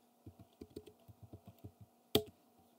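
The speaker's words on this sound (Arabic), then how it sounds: "لو انا كتبت هنا مثلا" Someone types a word on a computer keyboard: a quick, even run of about a dozen soft close key clicks, ending in one louder sharp tap.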